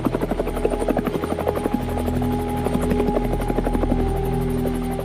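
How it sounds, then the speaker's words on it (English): A MINUSCA attack helicopter flown by Senegalese pilots sounds close and loud, with a rapid rhythmic rotor chop over a steady turbine whine and deep low rumble that holds throughout. "there are days when MINUSCA attack helicopters are tasked to conduct tactical offensive operations"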